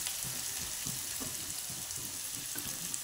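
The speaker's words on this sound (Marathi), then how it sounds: "कांदा टाकू आपण परतायला." Onions sizzling and crackling in a pan with mustard seeds and green chillies, a steady close hiss with small irregular pops throughout, no talk.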